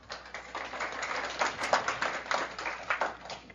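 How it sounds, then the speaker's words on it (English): A studio audience claps steadily for a few seconds after a segment on deep brain stimulation for Parkinson's disease, a dense, moderately close patter of many hands with no talking over it. "thanks for clapping for him"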